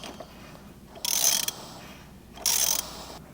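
A 33mm socket ratchet tightening a fastener on a G80 BMW M3 Competition during an oil change gives two close, sharp bursts of rapid clicking, each lasting about half a second, separated by a pause of quiet room tone.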